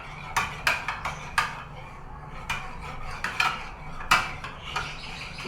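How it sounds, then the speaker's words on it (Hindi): A homemade herbal toner with lemon juice is mixed in a bowl, with a series of clinking taps of a utensil against the dish, quick clusters early and a louder strike near the end, heard alone without talk. "आप लोगों ने इसको इस तरह से अच्छे से मिक्स कर लेना पहले"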